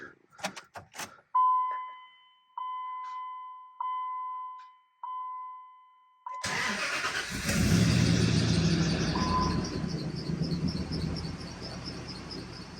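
A third-generation Dodge Ram with a Hemi V8 and an NV4500 manual transmission cranks after a few clicks and tones, then fires up and idles loudly and unevenly with a rough, lumpy running note.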